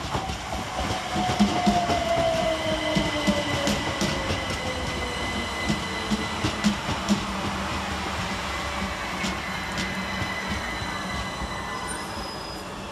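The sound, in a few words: Southern Railway train 3877 passing Angmering station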